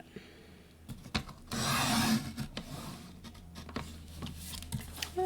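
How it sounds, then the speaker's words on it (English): Paper is cut by hand with short snips and rustling, then a longer scraping stretch as the shape is worked free, followed by scattered light snips and taps, close and fairly quiet. "And now I'm just going to cut that out real quick."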